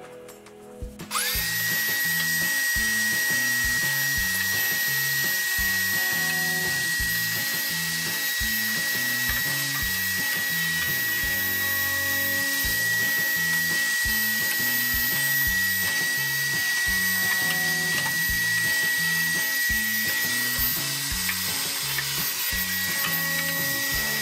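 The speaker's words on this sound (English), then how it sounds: "One of the most easiest ways to clean out all the leftover lint is just using a regular vacuum cleaner." A loud, steady motor whine from a regular vacuum cleaner runs almost the whole time, with rattling and clunking underneath as it sucks leftover lint out of a clothes dryer.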